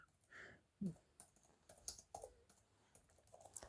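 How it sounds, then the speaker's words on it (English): Typing on a computer keyboard produces sparse, quiet key clicks and taps at an irregular pace, close and soft with short pauses between strokes. "typing my name, then password."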